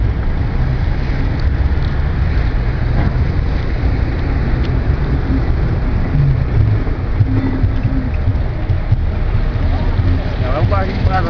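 A boat motor runs steadily without accelerating on a river along the Santarém waterfront, a constant loud rumble mixed with wind buffeting the microphone.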